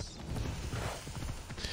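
Horse hooves clip-clop steadily through the whole stretch in Assassin's Creed Odyssey, a fairly close, dense patter over low rumbling game ambience.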